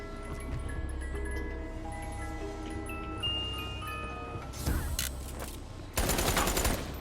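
Muffled shots from a suppressed gun in a video game, two short clusters of rapid firing late, set against a steady background of game tones.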